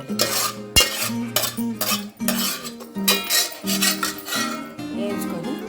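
Cashew nuts frying in hot oil in a pan while being stirred, with a spoon scraping and clinking steadily against the metal over a soft sizzle, close and fairly loud.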